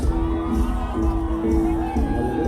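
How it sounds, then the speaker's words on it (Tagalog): A crowd at an international parade of banners shouts and cheers continuously, a loud, close mass of voices with whoops rising over the babble. "Masigaw sila."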